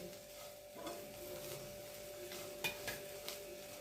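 Quiet scraping and clinking of a spoon stirring chillies in a pan with a little oil, with soft sizzling underneath and a few sharper taps near the end.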